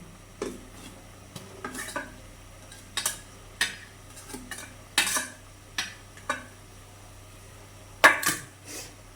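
Crushed garlic, ginger, pepper and cumin are stirred in a pan, a spoon scraping and clinking against the metal in a steady series of sharp strokes with a light sizzle beneath.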